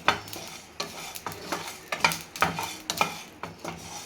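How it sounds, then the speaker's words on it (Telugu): Cloves, cardamom and shahjeera dry roasting in a pan, with a spoon scraping and stirring in regular strokes, crisp clinks and rattles of the whole spices against the metal, close and fairly quiet with no talking. "ఇప్పుడు వీటిని మనం దూరగా వేయించుకోవాలి."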